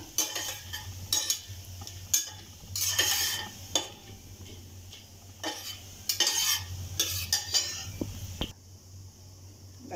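A utensil repeatedly scrapes and stirs cumin seeds roasting in a pan, giving bursts of clinking and scraping over a soft, constant sizzle, close and fairly quiet.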